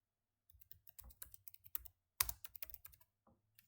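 Someone types a short search entry on a computer keyboard, a quiet close patter of key clicks in two quick bursts with a brief pause between, no speech.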